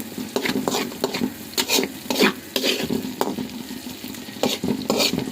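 Potatoes sizzle in hot oil in a blackened wok while a utensil stirs and scrapes them in quick, uneven strokes. The crackling and metallic scraping are close and loud, with no voices.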